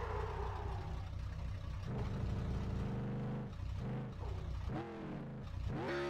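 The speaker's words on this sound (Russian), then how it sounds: "Просто попробуем разогнаться по прямой на максимальном газу." A 375 hp rear-wheel-drive car in a game engine accelerates at full throttle down a straight. The engine drones loudly and continuously, its pitch climbing in repeated sweeps that drop and rise again.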